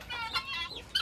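Chickens on a farm in Brazil cluck in quick, nasal bursts close by, several overlapping calls rising and falling within about a second, with no talk.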